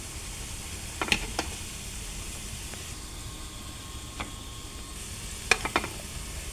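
Sliced bananas fry in a pan with a constant soft sizzle, with a few sharp clicks and scraping stirs punctuating the hiss.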